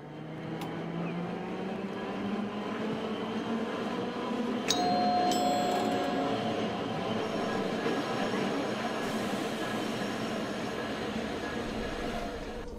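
A tram pulling away in the game Tram City Hakodate, a steady rolling rumble with rising motor whine, a brief bell-like tone and a faint chime partway through, no talking.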